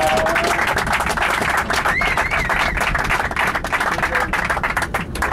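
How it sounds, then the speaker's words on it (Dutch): Applause for Peter at a team training-camp gathering, dense clapping from a group of people, loud and close, sustained steadily throughout with a few faint whistles on top. "Een applaus is zeker op zijn plaats."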